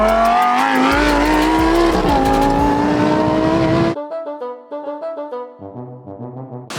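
A Lamborghini Huracan Tecnica's engine screams loud and close through a sustained high rev that climbs, then cuts to a series of sharp, crackling blips with pops between them.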